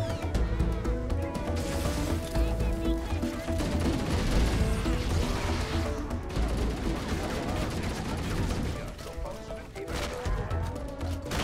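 Gunfire in Halo: Combat Evolved Anniversary, dense bursts of repeated shots and explosions in a busy, continuous battle mix, fairly quiet overall with no talk over it.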